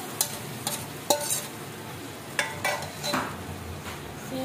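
Paste is slowly added and stirred into a pan over a low flame while cooking paneer, with soft scraping stirs, occasional sharper utensil clinks, and a gentle sizzle running underneath.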